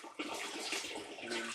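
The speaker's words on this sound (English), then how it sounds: "Bin 1 is flowing into bin 2 quite fast" Seawater pours steadily from one hatchery bin into a second bin during a flow-rate trial with filters, making a close, continuous rushing splash at even volume.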